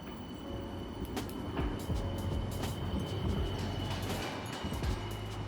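A West Midlands Metro tram runs through Birmingham, a continuous nearby rumble of wheels on rails with scattered clicks and clanks from the track.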